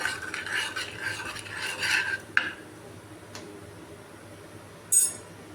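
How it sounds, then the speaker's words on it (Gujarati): A spoon scrapes and stirs red chili through hot oil in a small pan for a tempering to pour over dal palak khichdi, with soft rubbing strokes, a sharp clink midway and another metallic tap near the end. "તેલ થોડું ગરમ થાય એટલે આપણે તેમાં લાલ મરચું નાખવાનું છે. તેને મિક્સ કરવાનું છે આવી રીતે."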